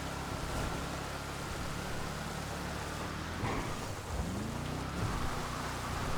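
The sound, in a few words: rain in GTA 5 video game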